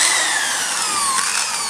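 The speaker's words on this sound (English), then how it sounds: "Now I may even break the drill doing this because, you know, I'm trying to push a drill through" A drill biting into high tensile braided steel hydraulic hose, heard as a loud, steady, high-pitched whine and grind close by with a slight pitch drop partway through, and no voices.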